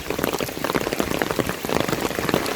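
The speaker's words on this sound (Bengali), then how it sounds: "দেখেন পুকুরের দিকে তাকালে বুঝতে পারবেন বৃষ্টিটা কোন লেভেলের।" Heavy, continuous rain pours down steadily beside a pond in Bangladesh, a dense, even hiss of countless drops hitting water and ground, loud and unbroken throughout with no voices.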